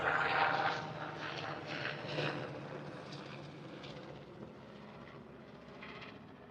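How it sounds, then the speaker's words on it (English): A low, steady rotor drone of a helicopter passing overhead a home garden, loudest at the start and easing slightly as it continues, with no one speaking. "Oh, excuse the Helicopter."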